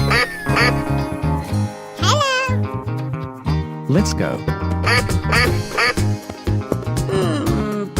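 A cartoon duck quacks repeatedly in loud, nasal bursts over upbeat music in an animated animal escape-room game, with a brief spoken line mixed in.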